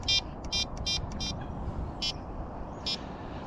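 Trakker fishing bite alarms beep in short electronic bursts, several quick tones early then two more spaced out, loud over a steady low outdoor rumble at the water's edge.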